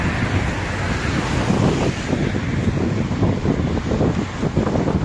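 Strong, cold wind buffets and roars close to the microphone in a continuous low rumble while fishing, with no one speaking.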